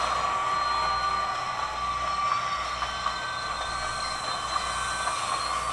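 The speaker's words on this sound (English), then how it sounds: "The train." A train rolls steadily through a TV drama scene, making a continuous loud rumble with metallic wheel squeal and faint clicking along the rails and no voices.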